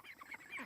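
Young geese honking close by outdoors at a backyard stream, a rapid run of short, quiet, reedy calls with no talking.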